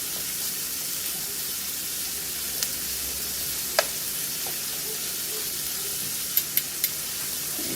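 Chicken pieces frying in a pan, a steady low sizzle throughout with a few faint clicks and taps of utensils, no speech.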